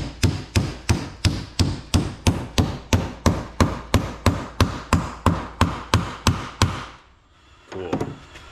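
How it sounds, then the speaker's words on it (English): Sharp, evenly spaced hammer strikes on metal turbo exhaust parts of a Yukon XL ring out about twenty times in a steady rhythm, close and loud, then stop and a brief thud follows. "I'm gonna hit it with a hammer anyways."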